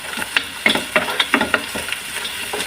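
Onion and garlic sautéing in a pan with cinnamon for chicken kabsa, a steady sizzle broken by repeated scraping stirs of a spatula, close and fairly loud with no talking.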